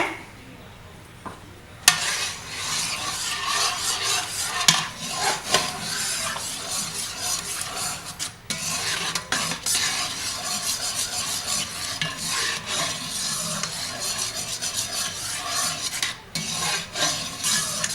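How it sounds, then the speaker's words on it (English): Crushed tomatoes are stirred into red wine braising liquid in a pot, with repeated wet scraping and sloshing strokes, fairly close and continuous, plus light sizzling underneath. "we're going to add 2 28-ounce cans of crushed tomatoes. Stir to combine"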